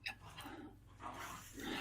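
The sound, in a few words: dogs barking and panting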